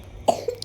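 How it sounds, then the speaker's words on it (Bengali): A child coughs while lying down, a single short nearby cough followed by a softer second hack in a quiet room. "ও কন্টিনিউয়াসলি পাশে শুয়ে কেসে যাচ্ছে"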